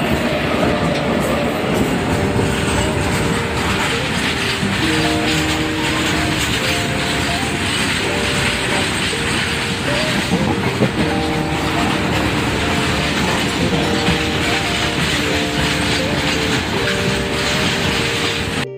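A train rolls past on a railway near a village temple, a steady loud rumble of wheels and carriages with a repeating rhythmic clatter filling the whole stretch, close and continuous.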